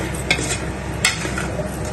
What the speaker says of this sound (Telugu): కొద్దిగా టమాటా, కొంచెం టమాటా వేసి ఇలా కలుపుదాం